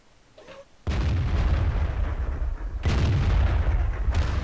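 Artillery fire in the tank battle game World of Tanks: two heavy booming blasts, the first rolling into a long, loud rumble and the second hitting just as hard a couple of seconds later, with no talking.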